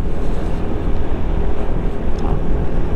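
Strong wind roars steadily across the microphone by the Bagsit River in Palauig, Zambales, a loud continuous rumbling rush with no letup.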